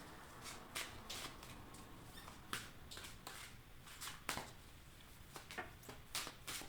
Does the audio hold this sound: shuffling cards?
yes